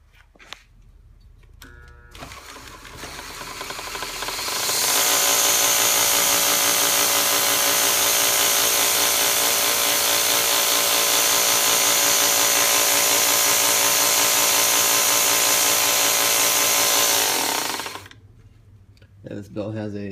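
A small homemade belt grinder spins up and runs steadily at a loud, constant whine for about thirteen seconds, then winds down, with quieter handling noises before and after.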